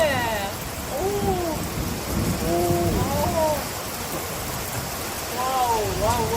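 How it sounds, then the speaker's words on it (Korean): Steady heavy rain hisses throughout with a low rumble of thunder underneath, while people talk excitedly over it. "와, 천둥 소리 들리죠?"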